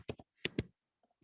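Computer keyboard typing in a quiet room: a few soft, close keystrokes in two short bursts, then faint taps, with no voices.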